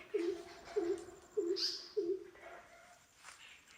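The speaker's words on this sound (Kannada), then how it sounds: "ನೀವು ನೋಡಿ ಕುಪ್ಪಲು ಕೂಗುದು" A greater coucal gives four deep, evenly spaced hoots outdoors, each clear and fairly close, with a brief higher bird chirp near the end and quiet surroundings.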